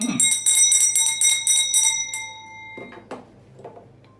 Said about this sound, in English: I ring bell for you.